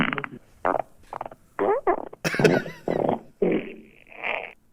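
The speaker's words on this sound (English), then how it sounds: "Fart right back at them." Comedic fart sound effects play in a quick sequence of short, loud, sputtering bursts of varying length and pitch, some squeaky and some rumbling, close and alone with no talk.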